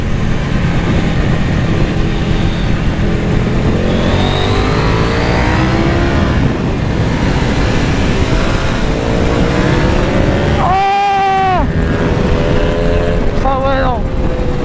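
A KTM Super Duke and a racing motorcycle accelerate hard down a circuit straight. The engine note is loud and continuous, with pitch climbing steadily through the gears, and a sharp gear-change dip near the end.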